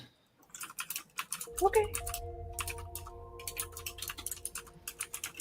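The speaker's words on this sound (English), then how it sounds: "typing furiously" Rapid typing on a computer keyboard, a dense stream of sharp key clicks running through the whole stretch, close and clear, with a brief tone and a short spoken word partway through.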